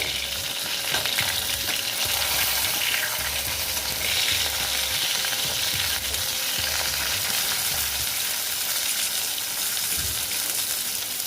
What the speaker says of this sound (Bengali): আমার এই মাছটাও মোটামুটি ভাজা হয়ে গেছে